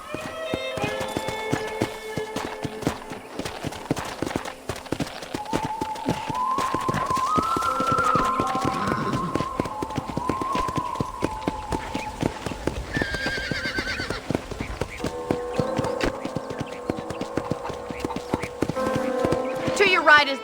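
Horse hooves clip-clop in a steady gallop with a whinny, layered over game music and a talking voice, in the video game Red Dead Redemption.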